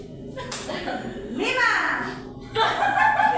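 A group in a classroom or school setting plays a rhythmic concentration clapping game, with bursts of hand claps mixed with children's voices, chuckles and laughter, lively and close.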